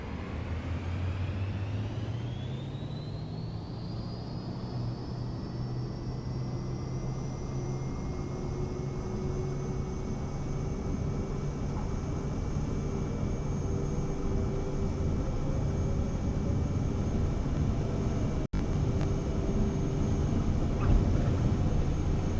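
Airliner engine spooling up to takeoff thrust in Microsoft Flight Simulator 2024, a loud rising whine and roar that climbs over the first few seconds and then holds as a sustained steady drone with a single sharp click late on.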